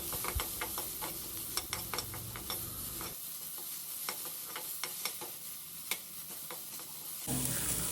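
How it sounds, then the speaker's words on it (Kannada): Chopped onions sauté in a pan over a low flame, a steady sizzle with repeated scraping stirs of a spoon against the pan throughout. "ಆಮೇಲೆ ನೀರುಳ್ಳಿ ಹಾಕಿ ಅದನ್ನು ಚೆನ್ನಾಗಿ ಬಾಡಿಸಿ"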